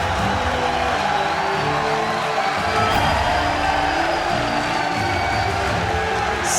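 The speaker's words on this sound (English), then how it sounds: "Standing ovation from the majority of the crowd here." Arena crowd at an NA LCS Summer 2014 playoff semifinal League of Legends esports match cheers and applauds in a standing ovation, a loud, dense, continuous roar with scattered whoops throughout.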